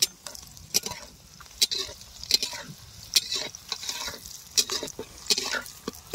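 Bay leaves dropped into hot oil in a pan with fried potatoes, a crackling sizzle broken by regular sharp clacks of a spatula scraping the pan, close-up and moderately loud.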